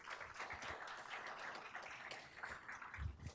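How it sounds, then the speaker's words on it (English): An audience at a school board meeting gives a round of applause for the State Superintendent, a soft, steady patter of many hands clapping at a distance that runs throughout. "if everyone could please just give him another round of applause"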